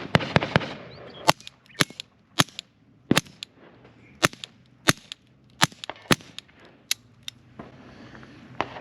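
Suppressed Ruger Mark IV Target .22LR pistol firing a run of supersonic and subsonic rounds, a dozen or so sharp, close cracks at irregular intervals, with faint clicks and handling noise between shots.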